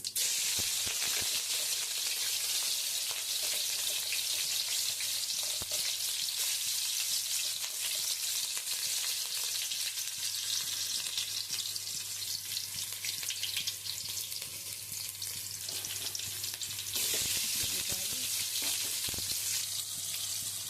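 Mustard seeds, cumin and green chillies fry in hot oil for carrot fried rice, a loud, close, constant crackling sizzle with scattered pops throughout and no voices.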